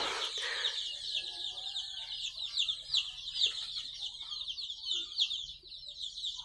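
Local free-range chickens cluck and chatter continuously at close range, a busy flock of overlapping calls with no talking.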